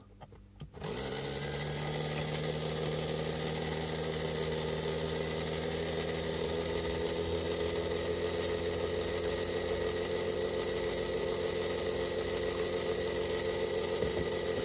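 A new HO slot car electric motor, lubed and shimmed, running in at 6 volts: after a brief quiet start it spins up to a steady, even high-pitched whine and hum that holds unchanged to the end.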